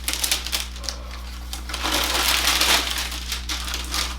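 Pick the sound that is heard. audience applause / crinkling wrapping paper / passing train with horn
crinkling wrapping paper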